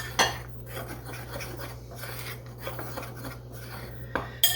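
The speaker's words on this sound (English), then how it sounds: "I'm just going to stir that around with a spoon to incorporate all that." A spoon stirs a ham and cheese pie mixture in a bowl, giving soft, faint scraping and clinking at irregular intervals over a low background hum.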